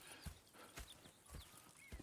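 Soft, distant hoof clip-clops from horses in the video game Red Dead Redemption 2 at an uneven walking pace, a few thuds spaced across the clip with faint ambient noise between.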